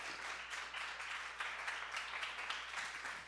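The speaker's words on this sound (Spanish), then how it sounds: "Denle un fuerte aplauso al Señor en esta tarde." A church congregation applauds the Lord during a sermon, a steady, fairly faint wash of many hands clapping with no clear break.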